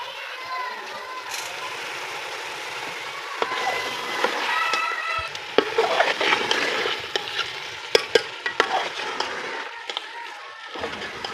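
Cumin seeds and dried coriander dropped into hot oil in a handi pot while making chicken korma, giving a steady sizzling fry with scattered crackles and spoon clinks; a person talks over it.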